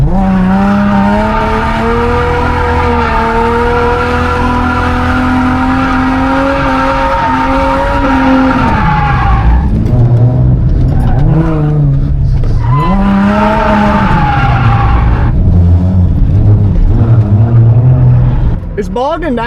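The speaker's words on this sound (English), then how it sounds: "It's bogging down on me." A Nissan Z's engine drones loud and steady while drifting, then its pitch sags and wavers as it bogs down and struggles, recovering briefly before dropping again, with faint tire noise underneath.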